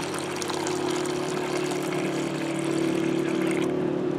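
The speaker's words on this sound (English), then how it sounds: "I start the experiment by pouring the water into the bowl" Water pours steadily into a bowl in a continuous rushing, splashing flow with a constant hum underneath, close and moderately loud, alone without talk.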